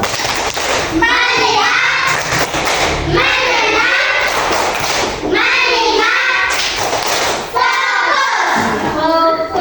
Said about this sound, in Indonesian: Ayo, tepuk fokus